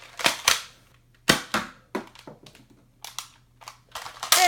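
A toy foam dart blaster with a scope fires a dart in a few sharp, close snaps and clacks separated by short pauses, with mechanical handling sounds in between.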